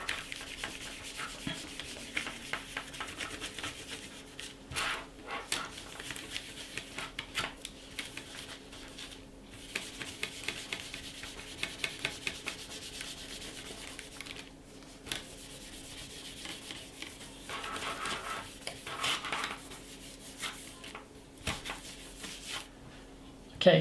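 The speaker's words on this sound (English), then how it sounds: "for all the switches, I just give them a quick rub with regular baby wipes" Commodore C16 keyboard switches being rubbed with baby wipes, an irregular scratchy rubbing and scuffing that comes in bursts close to the mic, with a faint steady hum underneath.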